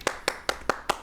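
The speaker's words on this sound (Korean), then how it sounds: "지금 우리 스태프들이 다 박수를 치고 있어요" Staff members in a broadcast studio clap five times at an even, quick rhythm, sharp and close, with no other sound between the claps.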